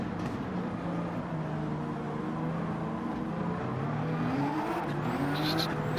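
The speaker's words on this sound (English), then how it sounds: "Still wheel spinning like mad, but you can hear it." Engine revving hard with rising pitch as tires spin in Gran Turismo 7, a continuous strained whine that climbs and shifts gears, moderately faint.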